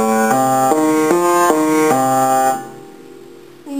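Piano plays a rising sequence of arpeggiated chords from a song, each note struck cleanly in a steady rhythm, close and clear, before the last chord fades out.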